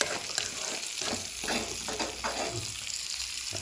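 Potatoes and spices frying in a pan, a continuous dense sizzle with intermittent stirring scrapes, close and steady, without speech.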